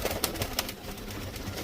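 Show pigeons of the French Modena breed in a loft, their soft cooing and fluttering mixed into a busy, noisy room tone with people talking nearby.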